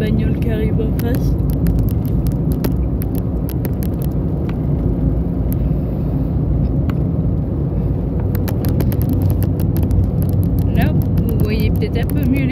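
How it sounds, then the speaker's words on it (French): A car approaches from the opposite direction on a winding mountain road while heard from inside a moving vehicle, a loud steady road rumble and whir filling the whole span. "Encore une bagnole qui arrive en face."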